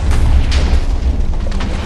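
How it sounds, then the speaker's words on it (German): TNT detonates in Minecraft with the Too Much TNT mod, a loud deep booming rumble with crackling bursts layered over it, close and continuous, no talk. "Okay, es explodiert immer noch."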